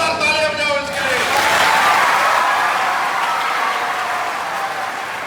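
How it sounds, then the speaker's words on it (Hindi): Children in a group clap loudly and enthusiastically on cue, the applause swelling after a voice speaks and then slowly tapering off. "जल्दी जोरदार तालियां बजाओ इसके लिए।"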